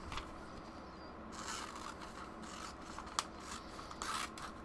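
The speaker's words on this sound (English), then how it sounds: "And then let me cut these words out." Scissors snip through a glossy magazine page, a soft papery cutting and rustling that runs steadily throughout, close and quiet, with a few sharper clicks of the blades.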